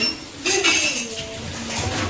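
Glass clinks a few times, sharp and close, in quick bursts against a quiet room background.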